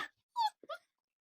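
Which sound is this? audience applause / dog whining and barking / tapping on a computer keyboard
dog whining and barking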